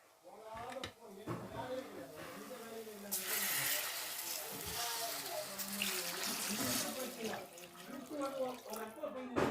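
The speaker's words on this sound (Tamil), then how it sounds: "தண்ணி ஊற்றியாச்சு." Tamarind water is poured into a pan of cooking curry, making a steady splashing, trickling stream that grows fuller midway and continues for several seconds under a voice.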